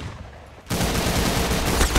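Rapid gunfire in the Roblox shooter Arsenal, a dense burst of close, loud automatic shots that kicks in abruptly and continues steadily to the end.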